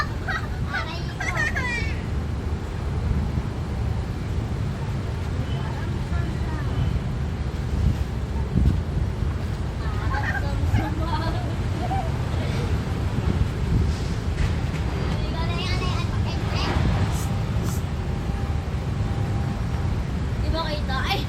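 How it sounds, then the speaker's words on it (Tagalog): Strong wind at sea buffets the microphone in a constant low roar, with people talking faintly underneath throughout. "Sobrang lakas ng hangin eh."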